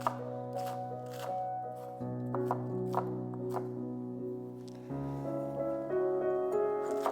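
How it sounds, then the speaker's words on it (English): A knife chops three stalks of green onion on a cutting board, giving a quick run of light, crisp taps over a steady background hum. The taps come in uneven bursts, close and fairly quiet. "Chop down 3 sticks of green onions."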